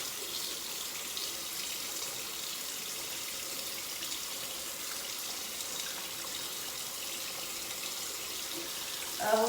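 Cool water running steadily from a bathroom tap into a sink while a face is washed, a constant soft hiss of flow with a small splash near the end and no talking.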